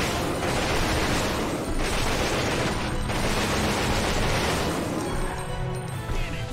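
Dense machine gun fire in the PS2 survival horror game Resident Evil Outbreak, a loud, continuous roar of rapid shots with slight dips in intensity, filling the whole stretch with no pauses.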